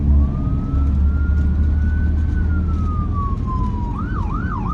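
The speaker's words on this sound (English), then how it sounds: "We got Ambulance on my left." An ambulance siren on a city street in Philadelphia's Allegheny area wails loudly and close. A long rising and falling tone turns into a rapid yelp, heard over steady road and engine noise from a passing car.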